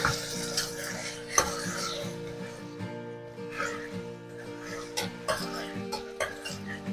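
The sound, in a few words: stirring bottle gourd pieces in a pot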